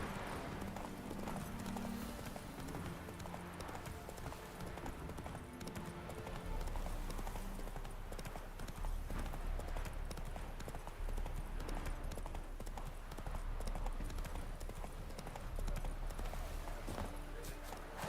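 The horse Roach galloping in a video game, a rapid rhythmic clip-clop of hooves running throughout, with faint voices talking underneath.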